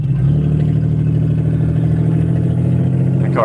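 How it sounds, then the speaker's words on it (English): A loud car engine with a worn exhaust that needs a muffler drones at a steady, heavy low pitch close by for the whole stretch, a constant rough hum with slight clatter and no speech. "The car's pretty loud. Needs a muffler."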